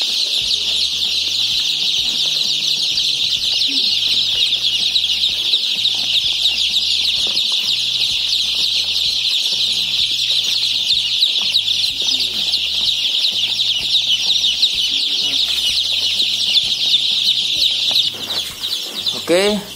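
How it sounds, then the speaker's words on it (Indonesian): About a hundred day-old chicks in a low-cost brooding pen fill the air with a loud, continuous, overlapping chorus of shrill peeping that barely lets up. "Ayamnya alhamdulillah semuanya aktif, sehat, lincah"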